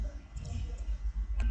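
Computer mouse clicking while working in Altium Designer PCB layout software, a couple of quick, faint clicks against a low room hum.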